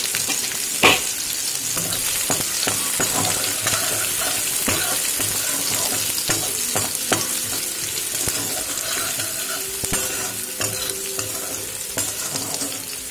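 Cumin seeds, onion and green chilli fry in hot oil for a pea ghugni curry: a loud, continuous sizzle broken by repeated scraping stirs and a sharp clink near the start.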